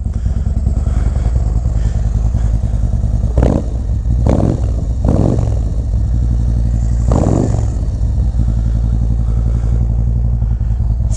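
A Harley Road Glide V-twin fitted with a Feuling 465 cam idles loudly and close, with a lopey pulse broken by several sharp throttle blips that rise and fall.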